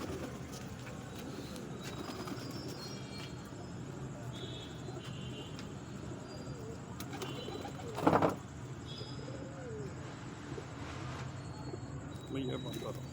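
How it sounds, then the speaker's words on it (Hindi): Wild pigeons cooing softly among steady insect and cricket noise, with a brief louder burst near the middle and people talking faintly in the background. "ये जंगली कबूतर हैं जो कमालगरों के घर के हैं।"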